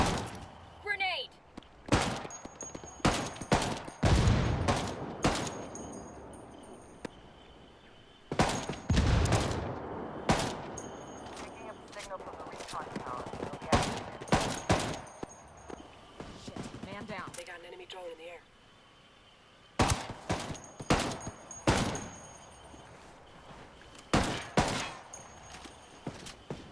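Heavy gunfire in the video game Ghost Recon Wildlands, with repeated loud bursts of rifle and machine-gun fire arriving in clusters over a long firefight, broken by brief quieter gaps and some radio-style voice chatter.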